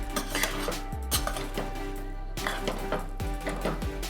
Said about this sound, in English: And we'll plate it up.